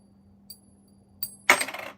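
A silver coin struck lightly twice, each tap giving a faint high ring, followed by a louder ringing clink that decays over half a second against a low background hum, with no talking.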